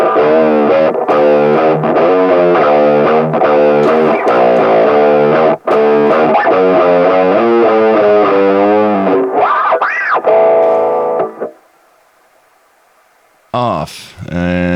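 A lo-fi audio effect applied to a steady tone-rich signal, giving it a gritty, distorted, wavering texture, with a brief dropout midway, then a fade and a short final burst.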